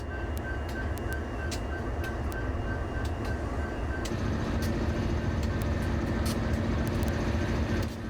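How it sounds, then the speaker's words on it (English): A track renewal train creeps slowly along an Illinois rail line while laying track, making a continuous mechanical drone with repeated sharp metallic clanks and ticks at irregular intervals, heard from nearby. "The track-laying train creeps along at a snail's pace."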